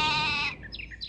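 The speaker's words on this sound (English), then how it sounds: "Un mouton." A single loud, wavering sheep bleat from a World of Warcraft television commercial, followed by faint high chirping sounds as it fades.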